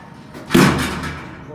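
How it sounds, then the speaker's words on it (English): A vintage Otis traction elevator door at a Macy's in San Rafael slams shut with one loud thud, then a short fading rumble, with faint voices in the background. "This door slams. That's what you heard while we were waiting for it."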